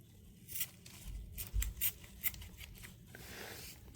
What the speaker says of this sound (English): my scissors don't want to cut today